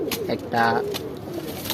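Indian Kaldom pigeons coo steadily at close range, their low rolling calls partly covered by someone speaking briefly over them.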